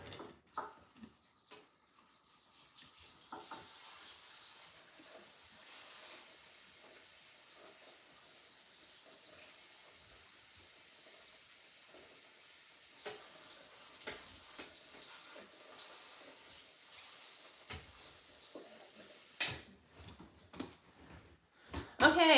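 Water runs and splashes steadily as conditioner is rinsed out of curly hair at a salon sink, a soft continuous hiss with brief louder bursts near the end.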